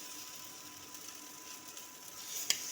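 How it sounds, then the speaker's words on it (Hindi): Mutton brain frying in a small amount of oil gives off a faint, steady hiss of sizzling, with one sharp click near the end. "इसको फ्राई करने में तेल कम डालते हैं"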